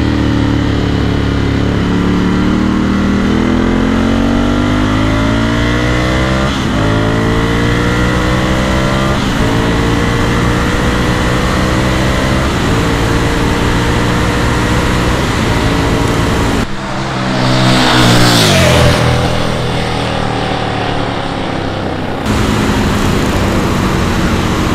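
Ducati Scrambler 1100 Sport motorcycle engine revving, rising and falling through the RPM range in repeated sweeps, close and loud, with a sharp higher rev burst near the end and no talk.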